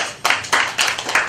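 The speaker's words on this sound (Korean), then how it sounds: "박수 한번 보내주시고요" Sparse clapping at a year-end gala concert for a performers' union in Changwon, South Korea, a few hand claps in separate bursts, fairly close and loud, with no talk over them.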